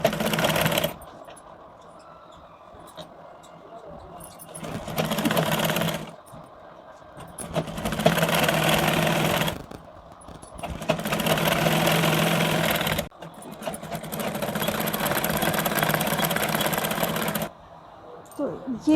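Sewing machine stitching a belt onto a blouse: loud, close, steady mechanical whirring in long bursts separated by short pauses, with someone talking over parts of it.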